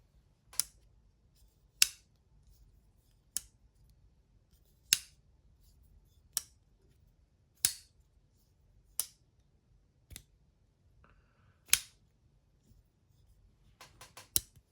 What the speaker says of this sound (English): They have a nice click when they open up and a nice click when they close